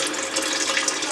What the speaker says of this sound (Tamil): இப்போ பார்த்தீங்கன்னா நம்ம வந்து டேங்க்ல வந்து தண்ணி ஃபில் பண்ணிட்டு இருக்கோம்